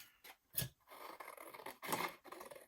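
Scissors snip through paper heart tags up close, a few quiet crisp cuts with soft rustling between them.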